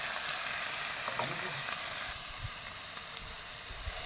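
Curry leaves and sliced bitter gourd sizzle steadily in hot oil in a pan, a continuous close frying hiss with a few soft stirring knocks and no voices.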